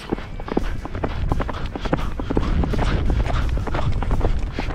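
A ridden horse's hooves clop in a quick, uneven running rhythm, loud and close, with rustling and movement noise throughout the ride.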